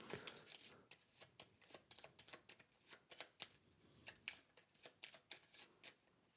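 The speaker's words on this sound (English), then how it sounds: "So we now take my discard pile and shuffle it up." Discard pile of playing cards from a board game being shuffled by hand, a rapid run of soft riffling snaps and flicks repeating steadily for several seconds, close and fairly quiet.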